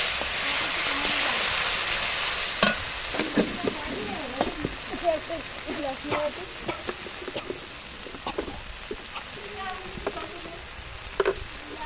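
Spices with salt and turmeric sauté in a pan over a wood-fired clay stove, giving a loud, constant sizzling hiss with repeated spatula scrapes and taps throughout, close up and without speech.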